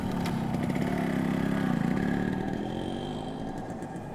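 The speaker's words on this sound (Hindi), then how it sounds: "बाइक पे बैठकर उस घर के लिए रवाना हो जाते हैं।" A motorcycle engine rumbles close by with a steady mid-pitched drone and some clatter, gradually easing slightly as the bike pulls away.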